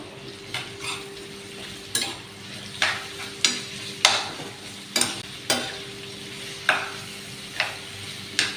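Onions frying in a pan for homemade koshari, giving a continuous close sizzle with regular stirring scrapes about once per second, each stroke briefly louder.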